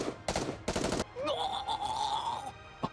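An assault rifle in an anime-style mobile shooter game fires a dense burst of rapid shots at close range, loud broadband blasts lasting about a second, followed by a lower grinding creature sound.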